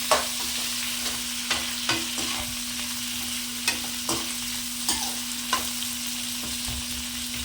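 Chopped onions fry in a pan with a steady sizzle, broken by repeated stirring scrapes every second or so, all close and loud, with no voices.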